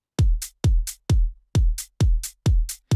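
A hi-hat drum sample pitched up five semitones, played as a short repeating pattern of about seven crisp, bright hits with a low thump beneath each, evenly spaced and loud with nothing else in between.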